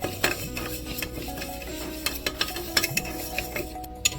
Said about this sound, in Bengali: আর এদিকে আমি ডালগুলো পুরো লাল করে ভেজে নেব